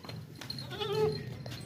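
A Beetal goat, a two-tooth doe offered at a livestock sale, gives one drawn-out wavering bleat close by, standing out over a low murmur of background noise.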